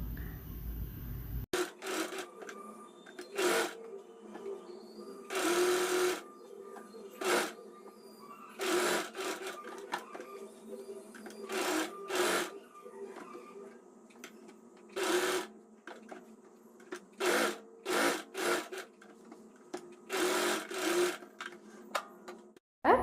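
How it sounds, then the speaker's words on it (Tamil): A sewing machine stitches along the edge of lining fabric for an Anarkali dress made from an old silk saree, running in repeated short bursts with pauses between them, close and steady. "லைனிங் ஃபேப்ரிக்கோட ஓரத்துலேயே வந்து நான் ஸ்டிச் பண்ணிட்டு வரேன்."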